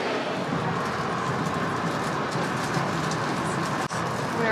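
Steady rumble and rolling noise inside a passenger train heading to Quebec, continuous and even throughout, with no talking.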